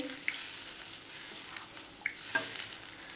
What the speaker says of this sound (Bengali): নেড়ে দেখছি